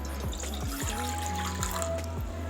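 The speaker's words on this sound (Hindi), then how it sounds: "चावलों को बॉईल करने के लिए पैन में हम थोड़ा सा पानी डालेंगे।" Water pours steadily into a pan on a kitchen stove for boiling rice, a continuous close splashing stream with faint bubbling tones shifting as the pan fills.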